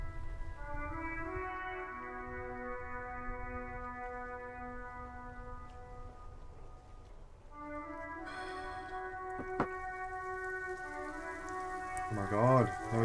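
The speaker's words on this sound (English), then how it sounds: "now it's raining?" Steady patter of rain falling in the video game Disco Elysium, a continuous hiss beneath sustained melodic music tones, with a brief sharp tick near the end.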